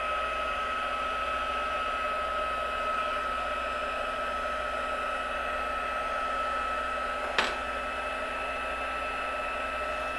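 A Fun Stampers Journey heat tool blows continuously for heat embossing, a steady loud whirring hiss that holds unchanged for the whole stretch with one brief click partway through.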